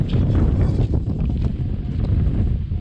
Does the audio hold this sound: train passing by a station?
no